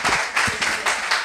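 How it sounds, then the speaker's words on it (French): Audience applause at an end-of-internship certificate ceremony, a dense crowd of hand claps in bursts across a short span, fairly loud and steady with no talk. "j'aimerais que vous fassiez encore un tonnerre d'acclamations, d'applaudissements pour la circonstance"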